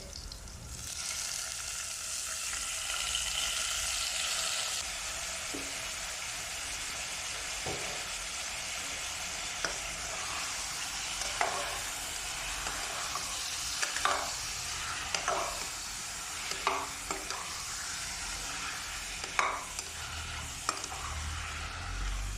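Chicken pieces sizzling with ginger in a pot for chicken tinola while being stirred, a steady hiss with repeated scraping and clanking strokes of the utensil growing more frequent in the second half, close and without speech.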